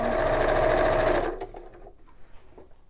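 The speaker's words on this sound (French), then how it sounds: "je vais coudre le haut et le bas" A sewing machine stitches a patchwork block in a rapid, loud close whir for just over a second, then stops, leaving quiet handling noises.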